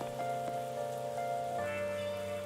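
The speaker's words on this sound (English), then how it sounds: "Yay, it's raining! We love rain." Steady rain in the Persona 5 X video game patters continuously under a sustained tonal game ambience, with no voices.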